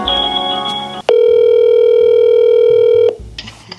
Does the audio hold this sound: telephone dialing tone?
yes